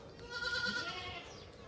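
A single goat bleats once, a wavering nasal call lasting about a second, close by against a quiet background.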